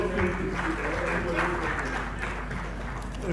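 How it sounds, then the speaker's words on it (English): A crowd claps steadily for a panel at a governance forum, even, moderately loud applause running through the whole moment with some background murmur. "another round of applause for the panel"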